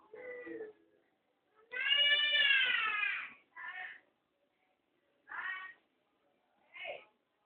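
A spoiled kitten meows five times, close and clear, with a long drawn-out cry in the middle and shorter calls before and after, separated by quiet gaps.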